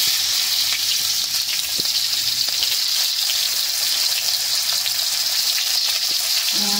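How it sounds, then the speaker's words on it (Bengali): Chopped onion frying in hot oil that already holds ajwain, cumin and asafoetida, cooked for veg momo filling. A loud, steady, close sizzle with a dense crackling hiss runs unbroken from start to finish. "এখন আমি পেঁয়াজ দিই"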